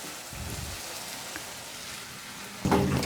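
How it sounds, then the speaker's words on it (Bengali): Dried chili paste and cumin paste sizzle as they sauté in a pan for a shrimp and jackfruit-seed dish, a steady fry hiss with a soft low scrape early and a louder, sharper burst of sizzling near the end. "এবার আমি একটু মশলাটাকে কষিয়ে নেব।"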